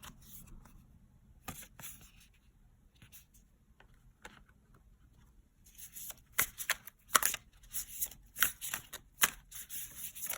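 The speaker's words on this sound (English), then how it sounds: "I've already pre-shuffled, but I'm just shuffling again." Tarot cards are shuffled in soft riffling bursts, quiet at first and then louder and quicker, with crisp flutters and taps close by.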